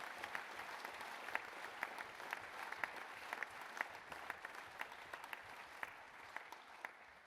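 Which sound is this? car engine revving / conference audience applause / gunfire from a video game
conference audience applause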